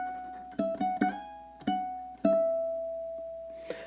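A ukulele picks a short melodic phrase variation from a love song, about six plucked notes with clear ringing sustain and uneven, syncopated spacing, close and fairly quiet, without talking.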